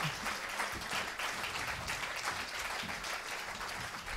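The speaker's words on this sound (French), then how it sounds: "vous pouvez les applaudir" Audience applause at a French business developer awards event: dense, steady clapping from a crowd that fills the whole stretch at an even level, with no voices over it.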